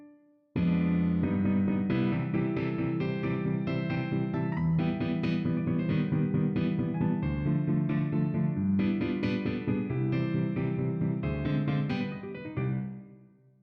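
A piano plays a flowing melody over full, ringing triad chords, sustained and steady for over ten seconds with no voices.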